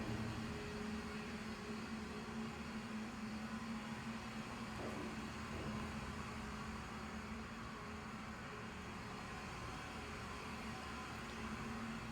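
Hydraulic freight elevator from the 1970s, made by Haughton, descending to the basement: a steady, low machinery hum with a constant drone, continuous and even throughout, with no talking.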